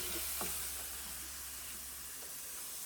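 Spicy garlic shrimp in sauce sizzles in a hot pan as it is stirred, a soft steady hiss with a few brief scraping strokes, close and quiet, with no voices.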